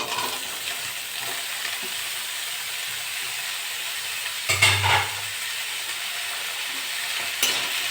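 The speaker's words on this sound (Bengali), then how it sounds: "ভালো করে নেড়ে চেড়ে নেবো।" Bottle gourd and potato are stirred in a hot pan with fried shrimp, making a steady close sizzle and frying hiss with one short scraping stir partway through.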